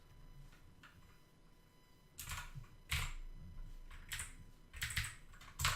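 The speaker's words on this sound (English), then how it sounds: "Typing, it's hard." A computer keyboard is typed on nearby in short uneven bursts of clicking keystrokes with pauses between them. It is faint at first, then grows louder and clearer, and no one speaks.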